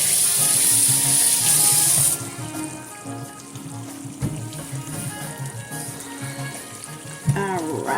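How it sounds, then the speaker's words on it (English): Running tap water splashes steadily as hands are washed at a kitchen sink, loud and hissing for the first two seconds, then softer trickling and rubbing with a few light knocks and clatters. "Let me wash my hands."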